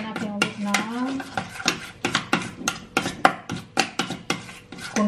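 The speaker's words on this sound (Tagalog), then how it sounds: "Mix lang natin yung cream cheese." Cream cheese being mixed in a bowl, with repeated scraping and clinking strokes of a utensil against the bowl in a steady rhythm, close by, with someone talking over the first part.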